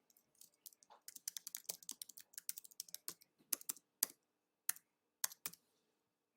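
Someone types a meeting title on a computer keyboard, producing brisk, irregular clicks in quick bursts that thin out into a few spaced keystrokes, close and quiet with no talk.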